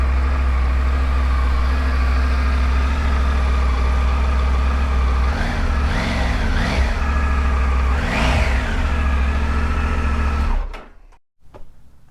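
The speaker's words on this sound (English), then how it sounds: "the factory exhaust sound coming from the bike" Factory exhaust on a Triumph Tiger 900 motorcycle, idling steadily, then blipped in three short revs. The engine cuts off abruptly near the end, leaving a few brief ticks.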